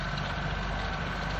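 Engine of a big green tractor moving, a steady mid-range drone with constant rumble and no breaks, moderately loud and heard alone.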